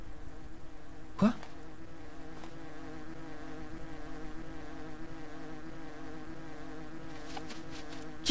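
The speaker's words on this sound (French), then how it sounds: "Attendez, j'entends des mouches." Flies buzzing steadily in the video game Hungry Lamu, a continuous insect drone with a brief louder buzz near the start, heard alone without talk.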